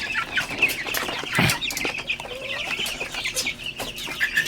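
Chicks peck feed from a feeder with quick, close tapping, mixed with constant chirping and clucking from nearby fowl.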